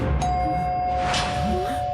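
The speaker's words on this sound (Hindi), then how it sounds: "हाँ यार, डोरबेल की आवाज आई।" A doorbell chimes once near the start, a short ding-dong ringing through a house, then fades under a steady hum of background tones.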